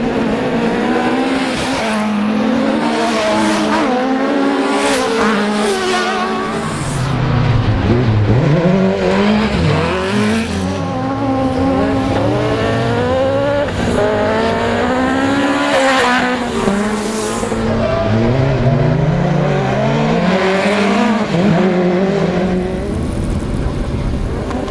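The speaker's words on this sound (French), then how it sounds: "les véhicules d'autocross se livrent une bataille incessante" Autocross race cars battle through a night meeting in August, engines revving and rising and falling continuously while tires squeal now and then, loud and close for the whole stretch.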